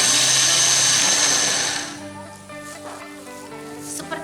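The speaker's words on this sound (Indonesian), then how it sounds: "Blender secara kasar saja ya" An electric blender coarsely grinds roasted samu, a loud, steady whir that eases off partway through and keeps running at a lower, rougher pitch, with a voice speaking over the later part.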